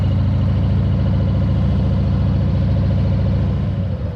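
Harley motorcycle engine idling up close, a loud, steady low-pitched rumble with an even pulsing thump that holds throughout.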